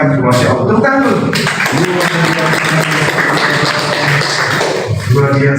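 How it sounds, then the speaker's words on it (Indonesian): An audience at a Father's Day school event in Makassar claps loudly and steadily throughout, with talk and some noise mixed in. "Tepuk tangan dulu."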